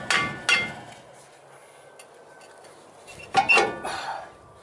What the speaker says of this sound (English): Here's a mallet, a nylon mallet, and I hit on the opposite side where the brake caliper was so I can pull it.